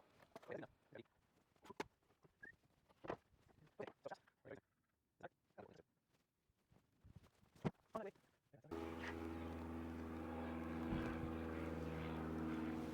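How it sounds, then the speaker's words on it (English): A propeller airplane passes overhead, arriving as a sudden steady droning roar that fills the last few seconds after a stretch of scattered knocks and work noises outdoors. "Wait for that airplane to go away"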